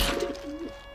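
A dove coos softly in a short low hooting phrase, two or three warbling notes close by, with no voices.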